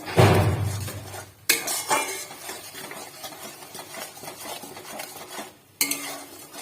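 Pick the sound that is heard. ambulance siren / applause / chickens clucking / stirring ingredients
stirring ingredients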